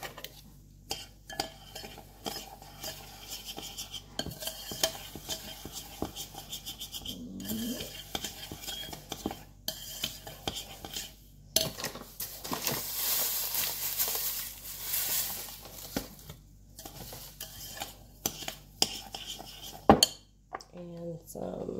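Sugar going into melted coconut oil and being stirred in a bowl, with close, uneven scraping and clinking strokes and brief pauses.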